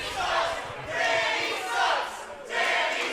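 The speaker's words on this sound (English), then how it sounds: "And this crowd letting Danny O'Ryan know exactly how they feel." A wrestling crowd yells in loud, surging waves, several swells rising and falling within a few seconds, heard from amid a packed indoor venue.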